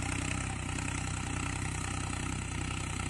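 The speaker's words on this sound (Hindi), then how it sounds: "ट्रैक्टर भी धुम्मा मार रहा" A 5620 tractor engine idles nearby with a steady, even diesel rumble and a constant low throb that holds unchanged throughout, with no talking over it.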